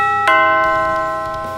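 A doorbell chimes once with a bright tonal strike whose harmonics ring on and slowly fade, heard clearly and alone with no talking.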